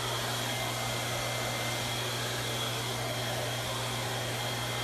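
A hair blow dryer runs on its cool setting during a haircut and wash, a constant loud airy whoosh with a steady motor hum and no change throughout.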